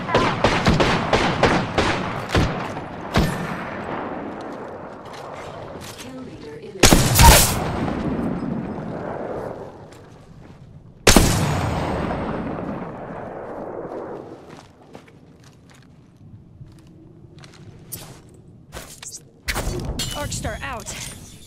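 Bursts of gunfire from an Apex Legends match: sharp loud cracks and rattling volleys, some distant and fading, spaced across the stretch with quieter gaps between.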